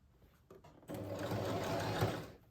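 A sewing machine stitches a polo shirt collar, starting after a short pause and then running in one steady, close, fast whir before slowing to a stop.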